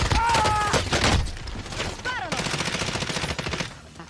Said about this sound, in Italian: Sparano! Davanti a me.